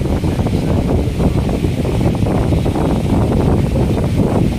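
Strong wind during a rainstorm roars in a continuous, loud, broadband rush with no letup, close to the microphone.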